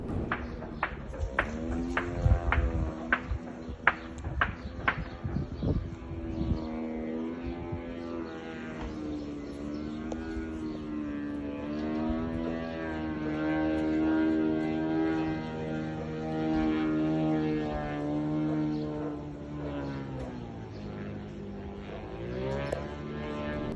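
Attack drones fly overhead at night with a sustained, droning engine tone that wavers in pitch and loudness; a burst of sharp clicks or knocks comes early, and the drone continues alone to the end.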